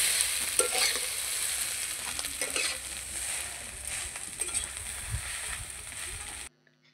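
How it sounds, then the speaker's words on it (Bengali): Chowmein noodles stirred and tossed with fried vegetables in a hot pan, a steady close sizzle with scraping and stirring clatter, cutting off abruptly at the end. "চাউমিনটা একটু নাড়াচাড়া করে ভাজা ভাজা করে নিয়ে ভেজে রাখা সবজিগুলোর সাথে ভালো করে মিশিয়ে নিচ্ছি"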